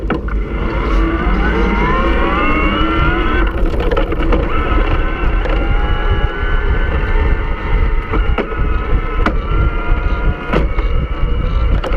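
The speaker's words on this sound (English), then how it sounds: "This is the Performance Line Speed in a relatively low gear." A Bosch Performance Line Speed e-bike motor runs in a relatively low gear, giving a loud, steady whine with rising pitch sweeps over constant wind rush, broken by a few sharp clicks.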